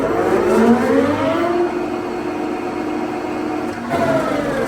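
A Standard Modern 20/36" x 56" sliding bed engine lathe runs its spindle at 800 RPM, producing a loud, steady mechanical whine with rising and falling harmonic tones as the speed settles.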